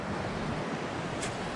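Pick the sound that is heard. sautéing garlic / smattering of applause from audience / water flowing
water flowing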